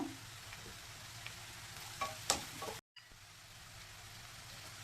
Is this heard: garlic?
yes